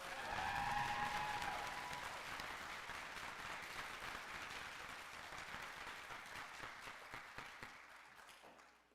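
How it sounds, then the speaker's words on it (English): Graduates at a physician assistant white coat ceremony applaud themselves, a sustained crowd applause heard from some distance, steady for most of the stretch and tapering off at the end. "Now give yourselves a round of applause."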